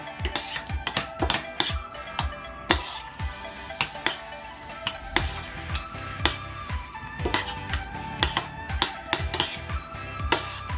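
A spoon scrapes and clinks against a bowl while heaping yoghurt for tzatziki (cacik), giving a busy run of sharp, close metallic taps and scrapes with no talking.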